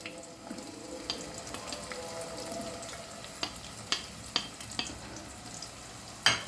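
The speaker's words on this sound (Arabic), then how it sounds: "هنحط البصله تتشوح شويه، ما تحمرهاش قوي" Chopped onion sautéing in oil in a pan, a continuous soft sizzle with occasional sharper taps and scrapes of a spoon against the pan, heard up close with no speech.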